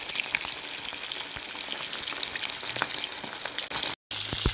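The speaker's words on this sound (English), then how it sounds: "Initially, I've started to fry both leg and thigh" Chicken legs and thighs fry in hot oil for a Jamaican-style fried chicken, a steady close sizzle and crackle with scattered pops, briefly cutting out near the end before resuming.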